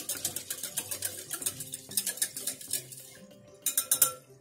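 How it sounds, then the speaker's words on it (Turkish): Metal spoon stirring cold wheat ayran soup in a pot, a quick series of clinks and scrapes against the pot, fairly close and a little quiet, pausing briefly before a few more taps. "Bir karıştıralım, yeterli olacak."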